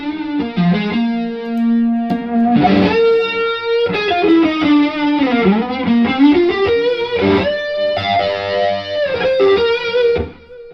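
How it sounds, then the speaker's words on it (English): Distorted electric guitar notes run through an Eventide delay pedal ring out with echoing repeats trailing behind them, layered and sustained, loud with no voices. "The Eventide is a great delay pedal"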